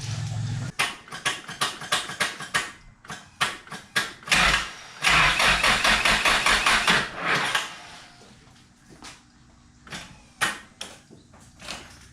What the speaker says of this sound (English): we're gonna see if we can get it to idle with all the intercooler piping on and stuff